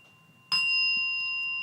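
A bell is struck once with a sharp attack, then a clear, sustained ringing tone hangs and slowly fades, close and alone in a quiet room.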